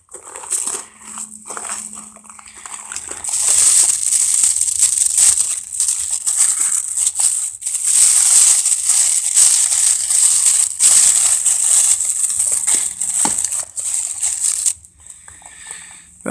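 Plastic sheeting crinkles and rustles up close as garden plants are wrapped against the cold for the night, a long stretch of dense crackling and crumpling with brief quieter gaps and no speech.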